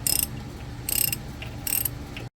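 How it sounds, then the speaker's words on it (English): A wrench ratchets to press a bushing out of a Nissan G35 drift build, giving three short bursts of bright, rapid clicking spaced under a steady shop hum. "as he's wrenching that down, it's pushing that bearing or bushing out into that cup"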